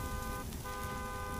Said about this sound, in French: Lui il klaxonne en boucle